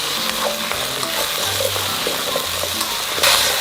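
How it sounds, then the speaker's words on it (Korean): Rinsed, drained potatoes being stir-fried in oil in a pan for a fish cake and potato dish, with loud continuous close sizzling and steady scraping of a utensil, ending in a brief sharper burst. "물에 건져 씻어놓은 건져놓은 감자를 넣어서 먼저 볶아주세요"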